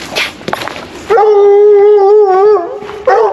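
Female coonhound baying in one long, loud, wavering howl held for over a second, followed by a second bay starting, close by, after brief muffled sounds.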